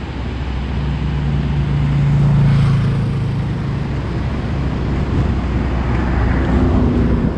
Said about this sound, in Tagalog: Daming dumadaan, mga truck, kung ano-ano. Napaka-busy highway dito sa Bukidnon.